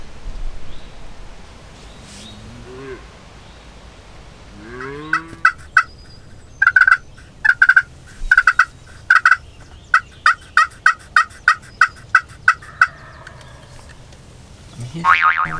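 A wild turkey gobbles at a distance in the Pennsylvania woods, followed by a long run of sharp rhythmic clicks and pops repeating steadily, with soft rustling in between.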